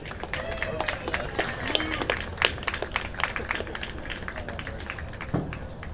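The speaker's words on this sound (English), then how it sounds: "I want to hear some clapping." Crowd at a lineman rodeo competition clapping and cheering for competitors, scattered sharp claps and shouts at moderate distance, with voices calling out among them.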